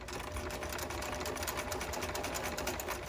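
A domestic sewing machine stitches a seam, making a loud, steady, fast mechanical whirring and clatter that runs evenly close up, with no speech.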